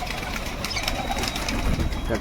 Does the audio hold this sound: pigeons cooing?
yes